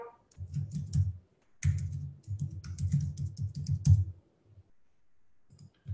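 An email address is typed on a computer keyboard in quick bursts of close, clicking keystrokes, with short pauses between runs of keys and no voice.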